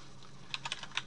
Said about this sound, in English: and type auto play